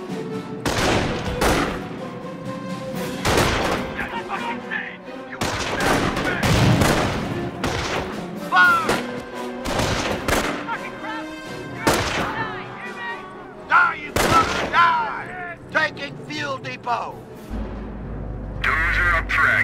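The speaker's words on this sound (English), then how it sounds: "Rifle squad taking fire!" Dense gunfire in the World War II strategy game Company of Heroes, with repeated loud rifle and machine-gun bursts and booms over a battle ambience, while soldiers' voices call out over the shooting.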